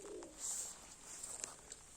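Faint pigeons coo softly in the distance against a steady hiss of background noise, a few low calls spread out.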